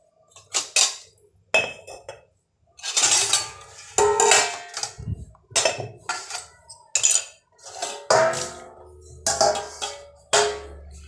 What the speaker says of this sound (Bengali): ততক্ষণ আমি এই বাসন কটা চটপট করে মেজে নেব।